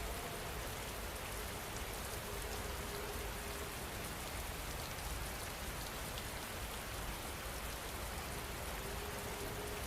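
Steady rain falling, a continuous even hiss of drops on surfaces with no pauses, soft and uniform throughout.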